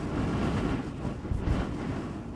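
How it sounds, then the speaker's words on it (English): Strong mountain wind buffets a camper van outside with a steady, dense rumbling roar. It swells briefly in gusts and is heard alone with no talk. "it's super windy outside"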